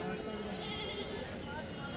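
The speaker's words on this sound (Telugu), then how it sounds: "అది కానీ పిల్ల మేకనా?" A goat kid bleats at an outdoor goat and sheep market, faint and somewhat distant. People talk nearby amid general market bustle.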